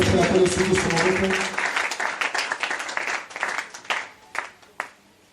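A church congregation bursts into dense, loud applause mixed with voices during a French-language sermon, then thins to scattered individual claps that fade out.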